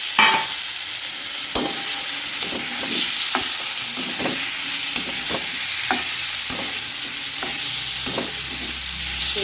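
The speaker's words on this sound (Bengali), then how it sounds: "মশলা কষানো হয়ে গেছে, এখন আমি শুটকি দিয়ে দিচ্ছি।" Dried fish is added to a frying spice paste and sizzles loudly and close, with regular scraping stirs of a spoon against the pan.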